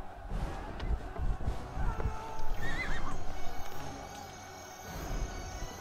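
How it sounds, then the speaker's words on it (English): In the Wars and Warriors: Joan of Arc video game, a horse neighs once in a rising whinny over clip-clopping hooves and game sounds, moderately loud and up close. "And look, there's a horse."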